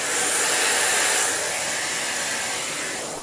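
A Miele vacuum cleaner fitted with an EB01 powerhead runs steadily as a loud, close, continuous broadband whoosh with a faint whine, easing slightly in level toward the end, with no voices.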